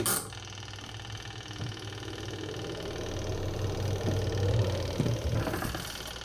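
The spin-dryer motor of a Panasonic NA-W76BBZ2 washing machine runs after a replaced dynamo: a steady low mechanical hum and drone, close and fairly quiet, rising slightly as it spins up.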